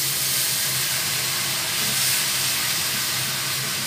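Water poured into cooked flour in a hot pan for a chicken steak sauce, giving a steady loud hiss of steam that fills the whole stretch without a break.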